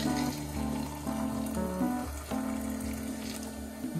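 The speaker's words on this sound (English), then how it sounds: "here we go for the pour" Liquid pouring in a steady gushing stream with shifting tonal gurgles as the container fills, close and continuous for several seconds without speech.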